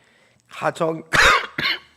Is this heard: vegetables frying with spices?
no